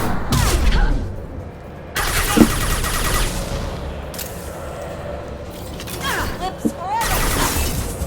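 Gunfire and combat effects from the video game Mass Effect 2 Legendary Edition arrive in bursts of sharp shots and mechanical clatter, with brief pauses between volleys and a player's voice talking over parts of it.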